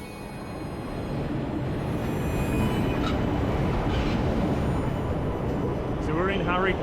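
A passenger train in India, travelling from Haridwar toward Amritsar, rumbles along the tracks in a steady, loud roar heard from inside, with faint squeals and some chatter near the end.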